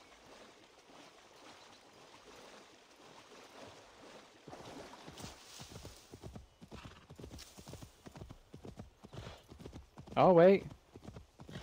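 Horse hooves clip-clop steadily in Assassin's Creed Valhalla, a close, rhythmic trot running through most of the stretch under a voice, with a brief loud whinny near the end.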